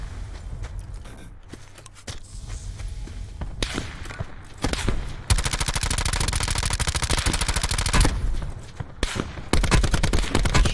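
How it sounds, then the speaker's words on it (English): Video game gunfire: long sustained bursts of rapid automatic fire, loud and close, broken by short pauses and single sharp shots. "They're shooting me."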